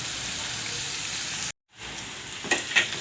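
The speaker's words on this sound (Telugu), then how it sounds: "ఒక నిమిషం పాటు హై ఫ్లేమ్లో ఫ్రై చేసుకుందామండి." Onion pieces frying on high flame give a steady loud sizzle that cuts out abruptly for a moment, then resumes with a few scraping stirs near the end; no one speaks.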